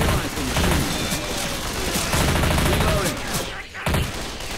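Rapid bursts of gunfire from a zombie shooter game, dense and loud, with near-continuous rounds and a few heavier booms, while voices talk faintly underneath.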